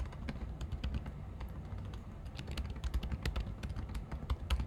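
Rapid keystrokes on a computer keyboard while C++ code is typed, an irregular stream of close, crisp clicks over a low background hum, with no voices.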